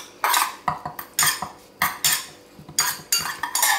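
Spoon scraping and clinking in a bowl as raw chicken stuffing with duxelles and a splash of olive oil is mixed, a run of sharp irregular knocks and scrapes, close and with no talking.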